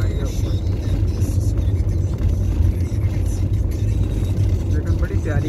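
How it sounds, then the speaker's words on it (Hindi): A car drives over a stone-paved road in the rain, a loud, close, constant low rumble with vibration, while a person talks over it. "सड़क आ गया जो पत्थरों से बनी होती है, तो इस वजह से उसकी आवाज से थोड़ी वाइब्रेशन आ गया ऊपर"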